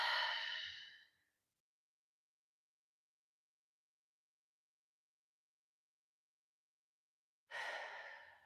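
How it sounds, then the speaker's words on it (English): Two deep, audible breaths during an at-home yoga session, one at the start and one near the end, separated by a long stretch of silence. Each is a soft, airy exhale like a sigh. "I'm going to take one more breath."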